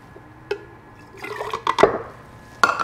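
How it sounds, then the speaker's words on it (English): Apple cider vinegar is poured into a big mason jar, making a few close, short splashes and liquid trickles against glass, with quiet pauses between them. "In that mason jar goes 1/2 cup of apple cider vinegar"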